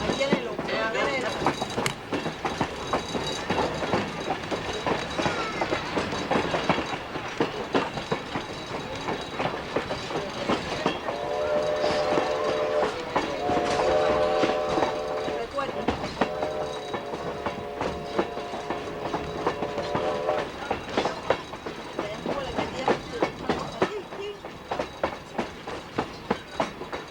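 A toy train with a little red caboose runs along model rails at an antique toy train museum, giving a steady close clickety-clack with brief squealing tones midway and continuous rolling noise throughout.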